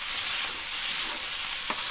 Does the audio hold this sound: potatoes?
yes